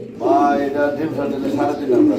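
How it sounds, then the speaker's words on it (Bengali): A male pigeon coos in repeated throaty, rolling calls, close and fairly loud, while a person talks in the background. "এই যে এটা হচ্ছে যেটা ডাকতেছে নর কবুতর"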